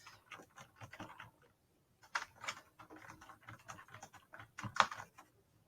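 Fingers type on a computer keyboard while a table is filled in, quick irregular bursts of light clicking keystrokes close by with short pauses between runs and no voice.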